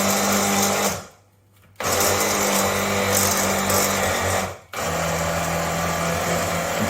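A food processor blending food, a loud steady high-pitched motor whir running in bursts with two brief pauses where it stops and restarts, close and alone.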